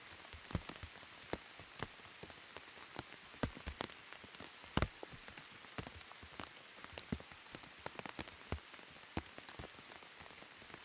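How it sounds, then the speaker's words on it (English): Rain falls in a Colombian jungle, individual drops tapping sharply and irregularly on a nearby surface over a soft, steady hiss, fairly quiet overall with no voices. "The rain has stopped, the thunder stopped."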